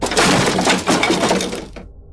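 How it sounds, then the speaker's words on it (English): A stack of wooden coffins tipping over and crashing to the ground, a dense, loud splintering crash with breaking and clattering debris that runs nearly two seconds, then cuts to silence. "The stack of coffins tipped over and crashed to the ground."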